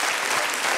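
Dense audience applause fills a television studio, a steady wash of many hands clapping close and loud from start to finish.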